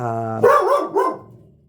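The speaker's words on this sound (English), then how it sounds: "He may start barking again." A dog named Hank barks twice in quick succession close by, short, sharp, harsh barks following a low sustained hum, then falling silent.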